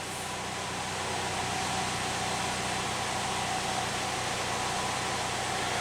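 A Chevrolet Cobalt with an evaporative purge valve fault (P0446) idles, giving a steady, even hum with a hiss over it that keeps going without a break and no voices.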